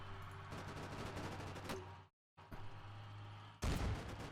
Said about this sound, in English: you guys are launching grenades at this thing.